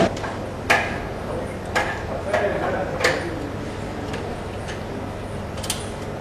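Beer kegs are being opened by hammering in the tap at a gala evening in Alsace. Several sharp metallic knocks land at irregular intervals over a busy background of crowd murmur.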